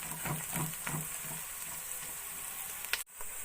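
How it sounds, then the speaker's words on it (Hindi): Chopped onions browning in a pan, a soft steady sizzle with a few stirring scrapes at the start and a brief sharp clatter near the end. "अब मैं प्याज को ब्राउन कर लूंगी।"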